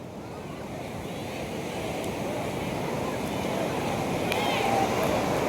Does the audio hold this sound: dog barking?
no